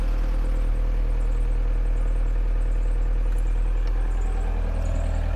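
A 1987 VW camper engine idles roughly in a steady, loud, close low drone with a slight uneven clatter, running alone without any talk.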